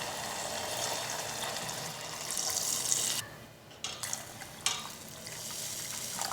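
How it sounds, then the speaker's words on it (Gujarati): About two glasses of water pour steadily into a cooking pot for green pigeon pea dhokli, a broad rushing splash with a brief pause midway, then stirring and clinking sounds close by. "હવે તેની અંદર આપણે પાણી ઉમેરી દઈશું"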